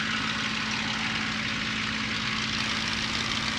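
Steady, loud propeller-engine drone from inside a Spitfire in flight, a constant throbbing roar with wind noise filling the cabin throughout.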